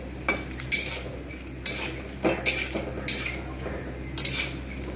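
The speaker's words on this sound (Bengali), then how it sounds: "ভালো করে না ভাজলে কিন্তু এর একটা যে সুন্দর টেস্ট সেটা কিন্তু কখনোই আসবে না তাই অবশ্যই এটাকে খুব ভালো করে ভাজতে হবে এইভাবে" Pumpkin and pointed gourd frying in a pan, with a spatula repeatedly scraping and clinking against the metal in short, irregular bursts over a low background hiss.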